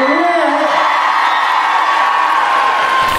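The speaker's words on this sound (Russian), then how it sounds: "ваши аплодисменты" A large crowd cheers and whoops loudly and continuously for a dance troupe, a dense wall of voices and clapping close by.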